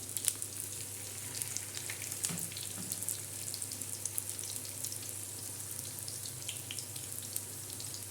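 Fresh corn fritters (bhaje) made with green chillies, garlic, cumin and onion fry in oil, a soft continuous sizzle with faint crackles, quiet and even throughout.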